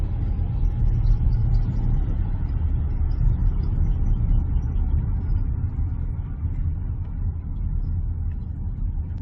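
Car on the road with a tire rubbing, a continuous low rumbling drone of engine and road noise heard from inside the cabin, steady and fairly loud, no talk.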